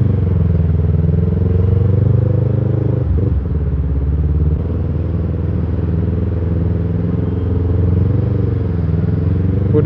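A motorcycle creeps through a city traffic jam, its engine drone loud and close throughout, with a brief rattle of clatter partway through and traffic rumbling around it.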